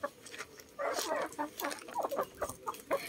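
Heritage rooster and chickens in a backyard coop, soft clucks and short calls scattered irregularly at moderate distance over faint rustling, with no talk.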